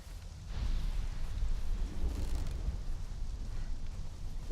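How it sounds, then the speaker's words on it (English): Thunder from a close lightning strike in Conan Exiles, a deep rolling rumble that swells after a quiet start and keeps grumbling low and heavy with a rain-like hiss beneath it. "Oh, that lightning strike sounded close."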